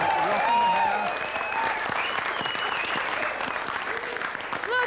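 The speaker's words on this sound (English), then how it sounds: "Round of applause, ladies and gentlemen." A live audience applauds an 80s band, crowd clapping and cheering under an excited announcer's voice, with music-like tones rising through the mix.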